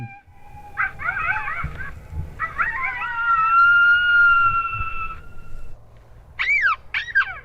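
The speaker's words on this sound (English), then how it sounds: "Now I'm playing the Coyote Pup Serenade." High, wavering coyote pup howls and yips from an electronic caller playing a Coyote Pup Serenade call, several rising and falling cries in a row, fairly loud over a low background rumble, during coyote hunting in Canada.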